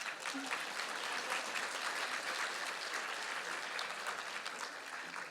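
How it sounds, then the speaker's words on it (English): An audience at a Latina Futures welcome event claps in sustained applause, a dense, even patter of many hands that holds steady for several seconds before easing slightly at the end. "So, another round of applause."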